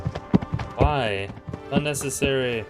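Horse hooves clip-clop under speech while riding in the video game Kingdom Come: Deliverance, a close and loud patter that runs beneath the spoken lines.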